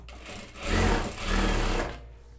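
A sewing machine stitches tulle over the shoulder of a child's festa junina dress, running in two close, loud bursts of rapid mechanical whirring with a brief slowdown between them and no talk.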